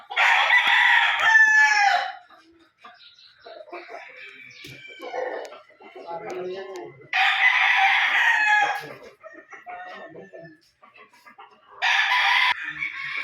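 Gamefowl roosters on a Philippine farm, Gilmore Hatch birds being readied for a Bicol expo, crow loudly and close in three separate bursts, with quieter clucks and farm sounds in the gaps between them.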